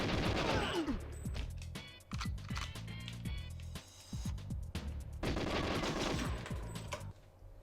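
Gunfire in GoldenEye 007: repeated automatic bursts and single shots, clipped and close, with short pauses between volleys and a thick flurry toward the end; no speech.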